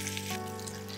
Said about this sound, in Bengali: আচ্ছা এবার একটু ভালো করে ভেজে নিই।